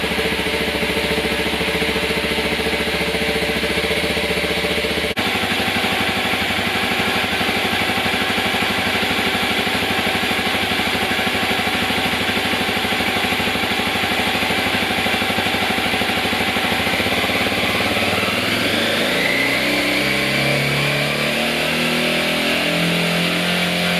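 A motorcycle engine runs loud and close, holding a steady idle drone. Near the end its pitch shifts and rises unevenly, and no one speaks.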